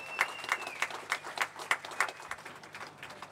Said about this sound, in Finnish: Pitäisikö meidän vielä kerran aplodit antaa heille kaikille?